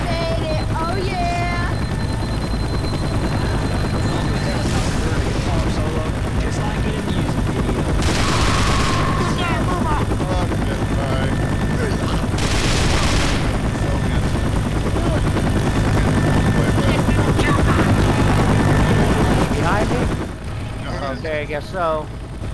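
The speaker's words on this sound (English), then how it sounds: "The chopper's coming! There it is." A helicopter's steady rotor thrum arriving in a video game, loud and continuous throughout, mixed with bursts of gunfire and excited voices shouting over it.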